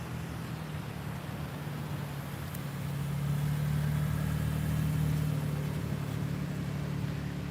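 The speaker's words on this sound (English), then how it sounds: "There's even a car on the beach." A car on a busy beach over Labor Day weekend, its engine a low steady hum that swells a little partway through, moderately distant under windy outdoor ambience with no talk.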